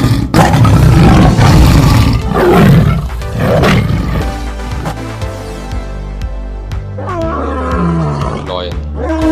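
A tiger roars loudly several times in rough, rasping bursts that fade into lower growls, with a few softer rumbles toward the end.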